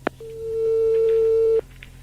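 Telephone line tone, a single steady beep lasting about a second and a half, bracketed by short clicks as the receiver is handled, with no voice over it.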